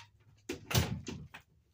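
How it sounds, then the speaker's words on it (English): An interior door in a home is pushed shut, a single muffled thud with a short rattle and creak close by, fairly quiet, with no talking. "will you shut my door?"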